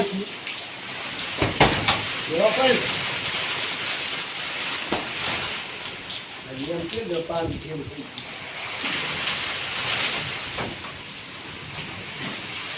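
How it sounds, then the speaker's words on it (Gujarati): Rain falling outdoors near people sitting on a cot, making a continuous moderate hiss throughout, with voices talking over it at intervals. "વરસાદ ચાલુ થયો છે"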